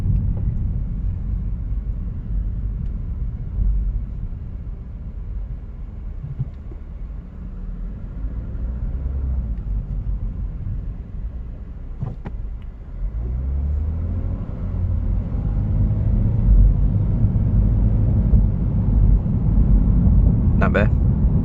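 A 2015 Lexus RC 350 F Sport fitted with a K&N high-flow air filter cruises in eco mode, its low engine and road rumble steady throughout, building slightly louder toward the end with a faint clicking tick.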